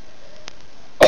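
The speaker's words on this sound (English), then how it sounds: "Sorry, I got a bad cough." A single short, harsh cough bursts out at the end after near silence, close and fairly loud.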